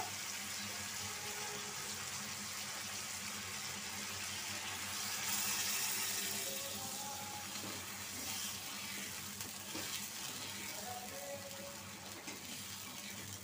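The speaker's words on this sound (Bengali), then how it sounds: "এখন আমি অল্প পানি দিয়ে দিব।" Water splashes into a hot pan of frying dried fish, a brief rush of pouring over a steady sizzle of frying that continues afterward.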